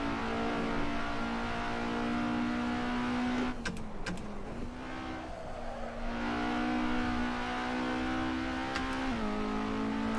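Race cars in Assetto Corsa multiplayer ranked racing hold a steady, loud engine drone at high revs, with a brief lift and gear shift midway before the pack roars on, several cars packed close together.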